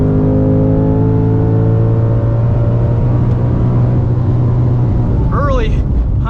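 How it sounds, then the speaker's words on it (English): A 2024 Ford Mustang Dark Horse with a Tremec manual gearbox drones steadily at close range on a race track, its engine note falling as revs drop, with brief talk near the end. "Try no lift shift. Yeah, it just drops revs."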